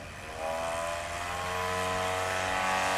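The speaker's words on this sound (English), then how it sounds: "This is a beautiful airplane." Legend Cub light airplane flying, a steady droning engine and propeller note with rising intensity, fairly close and sustained without talk.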